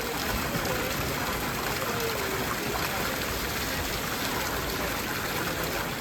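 Steady water flowing and trickling from a low-pressure aqueduct-fed drinking fountain in Rome, Italy, a continuous broadband wash with no pauses, fairly loud and close.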